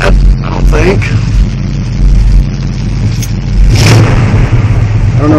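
A low-geared Chevy truck with a brake fault idling and running nearby, a loud, steady close-up engine rumble with a slight swell in revving near the end.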